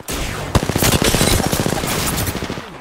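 Rapid automatic gunfire rattles out in dense, continuous bursts during an Apex Legends match, loud and close, with a sharper single shot near the start.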